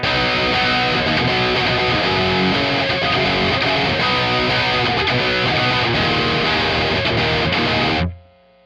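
Electric guitar played through a Marshall DSL20HR amp with tone shift engaged, loud distorted chords and riffs ringing continuously for about eight seconds before cutting off sharply into silence.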